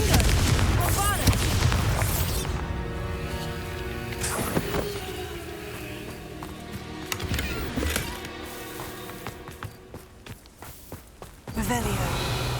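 Spell explosions from Hogwarts Legacy, Confringo and Bombardus: a couple of deep booming blasts with rumbling tails and sharp impacts, loud and close, with a voice speaking between them.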